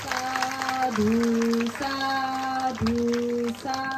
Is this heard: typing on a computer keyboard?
no